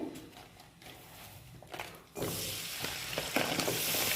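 Half a kilo of chopped jaggery drops into hot homemade ghee in a pan, a quiet rustle giving way to a louder, steady sizzle as it starts to melt.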